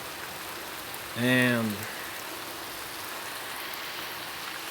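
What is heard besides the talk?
heavy rain falling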